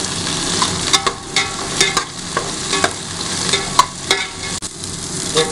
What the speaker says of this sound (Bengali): তারপরে যাচ্ছে কপি এবং কপিগুলোকে ভালো করে ভাজতে হবে।